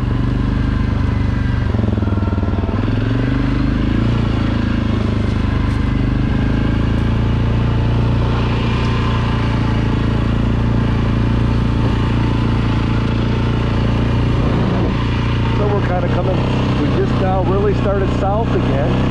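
An ATV engine drones steadily and loudly along the Leetsville off-road trail in Kalkaska, Michigan, a constant close engine hum running the whole time with small shifts in pitch.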